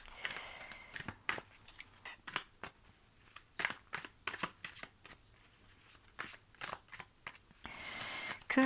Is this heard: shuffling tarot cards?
yes